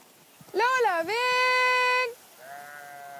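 Sheep from a flock of about 900 on an alpine pasture bleat close by, one long wavering call followed by a quieter second bleat.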